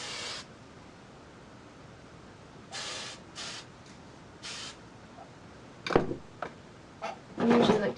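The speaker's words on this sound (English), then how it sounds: "And then your spray." Hairspray misted from an aerosol can onto a side ponytail, several short hissing bursts, close and fairly quiet, followed by a few soft handling knocks.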